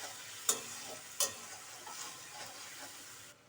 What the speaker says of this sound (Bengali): এবারে মশলাটাকে খুব ভালো করে কষে নিতে হবে।